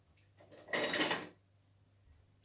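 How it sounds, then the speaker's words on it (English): Kitchen utensils rattle as a spatula is picked up, one brief clattering burst of metal and wood knocking together, close and fairly quiet, with calm room tone before and after. "Just gone for a spatula."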